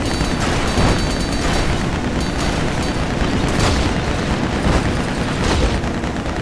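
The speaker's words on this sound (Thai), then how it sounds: "มันปาระเบิดอะแต่มันเป็นระเบิดฟันเว้ยฟันปลอมระเบิดฟันปลอม" Repeated booming blasts from false-teeth bombs in the LEGO Batman 2 video game, loud and continuous, with several sharper bursts layered over a dense rumbling bed.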